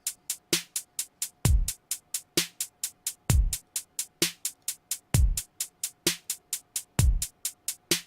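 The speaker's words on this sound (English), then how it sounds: "And here we're just alternating between our kick and our snare." FL Studio beat with a kick and a snare in steady alternation, plus a fast, constant ticking layer, all mechanical and evenly spaced, with no voices.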